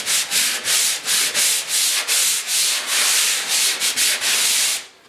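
Sandpaper rubs over drywall joint compound in a basement bedroom renovation, a close, loud run of steady back-and-forth scratching strokes in quick rhythm that stops abruptly near the end, with no voices.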